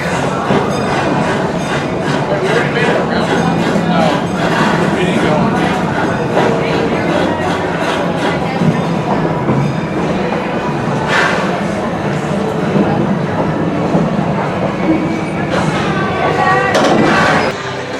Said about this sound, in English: Please remain seated until the train comes to a full and complete stop.